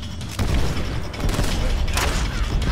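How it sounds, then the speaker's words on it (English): A grenade detonates in the Call of Duty: World at War campaign, a loud booming blast that swells and rumbles on with debris and gunfire-like crackle for a couple of seconds. "I throw that grenade over here."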